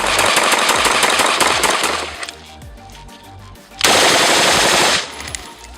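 An automatic rifle chambered for .223 Remington, .300 AAC Blackout or 5.45x39mm fires two loud, fast sustained bursts at roughly 750 to 950 rounds per minute, with a short quieter gap between them.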